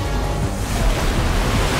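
Churning ocean waves in a Genshin Impact cutscene surge and crash in a loud, continuous wash of surf with a deep rumble underneath.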